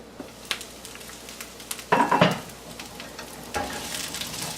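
Duck crispies fry in a pan with a low steady sizzle and scattered spits. A louder burst of stirring or scraping comes partway through, then the frying settles to a steadier crackle, heard close with no voices.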